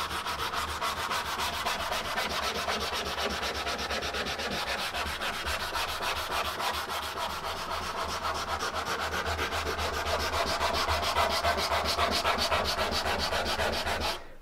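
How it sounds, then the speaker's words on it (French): Wood is sanded along the grain by hand in a steady, continuous rhythmic rubbing, close and even throughout, with no voices. "Le ponçage se pratique le plus possible dans le sens du fil du bois."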